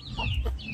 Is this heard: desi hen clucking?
yes